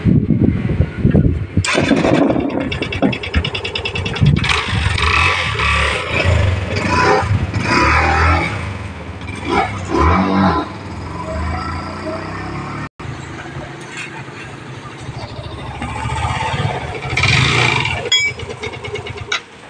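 A Yamaha FZ-S v3 motorcycle engine runs and revs while being ridden, with fluctuating engine noise mixed with wind and someone talking over it at times.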